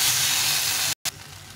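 Potatoes sautéing with spices in a pan for a rohu fish, eggplant and tomato curry give a steady, close hiss of sizzling oil, broken by a brief silent gap before the frying resumes.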